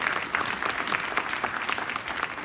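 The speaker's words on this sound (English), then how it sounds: "let's give those ladies a round of applause again for standing up and fighting back" Steady audience applause at an award ceremony honoring women, a dense continuous wash of many hands clapping at moderate loudness with no voices.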